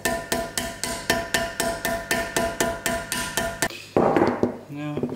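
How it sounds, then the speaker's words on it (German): Repeated hammer blows knocking a valve guide out of a BMW E36 cylinder head, about a dozen sharp metallic strikes in steady rhythm, close and loud, then a brief scrape and clatter at the end. "soll ich da jetzt echt mit einem Hammer draufschlagen?"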